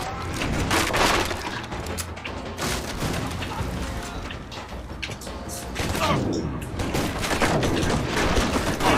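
Rapid shotgun blasts and scattered gunfire from the action video game Stranglehold crowd the whole stretch as a loud, busy barrage with booming hits and mechanical clatter, while a voice is faintly present underneath.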